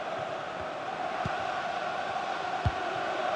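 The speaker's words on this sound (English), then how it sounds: "The crowd certainly think so. Just listen to them." A FIFA 22 stadium crowd keeps up a steady, tense roar during a West Ham versus Eintracht Frankfurt club friendly, with a couple of faint dull thumps underneath.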